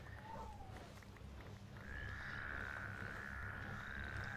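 Toad croaks in the Minecraft video game, a short squeaky call early on followed by a sustained high croaking tone that carries on steadily, faint over a low ambient background.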